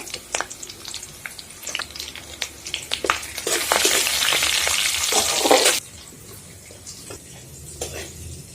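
Garlic, dried red chillies and curry leaves crackle in hot oil for a dal tadka, a loud sizzling burst swelling in the middle then cutting off abruptly, with scattered stirring clinks before and after.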